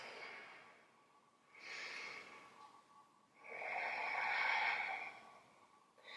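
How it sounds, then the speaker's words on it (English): Slow, audible Ujjayi breaths during a yoga pose: soft, airy throat-constricted breathing in long swells, a shorter one followed by a longer, louder exhale, close and quiet with no talking. "come back to that beautiful Ujjayi breath"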